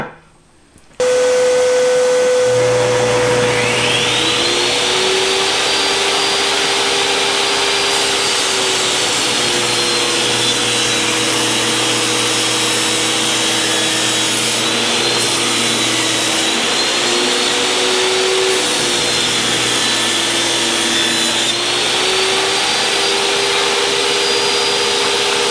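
A table saw spins up and rips thin wood strips using a simple jig, a loud, steady motor whine with a rising pitch as the blade cuts, sustained for over twenty seconds with no talk.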